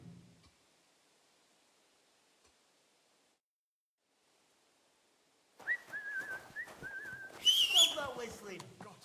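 Whistling in the video game Kingdom Come Deliverance 2: after a long near-silence, a person whistles a short wavering tune of several notes, fairly close, with rustling and a few other game sounds around it.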